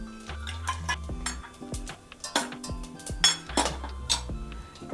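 Cinnamon, cloves, cardamom and fennel dropped into hot oil in a pan for tempering, heard as irregular close clinks and knocks of a metal spoon against the pan over a light frying background, without speech.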